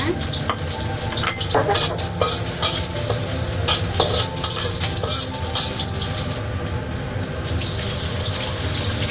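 Garlic and ginger going into a large pot of broth, a loud, dense bubbling and watery churn with scattered clinks and knocks of utensils against the pot, continuous throughout.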